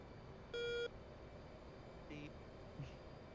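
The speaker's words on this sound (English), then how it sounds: "That was the RWR, new contact sound." A flight simulator's radar warning receiver gives a single short new-contact beep, sharp and clear over a low steady cockpit hum, followed by fainter tonal blips.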